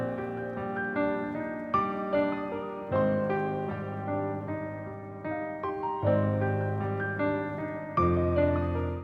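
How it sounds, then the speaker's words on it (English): Bright synth notes play a high melody over a fuller chordal backing, each phrase starting with a sharp attack and slowly fading. "I added this counter melody up top to add some high frequencies to it"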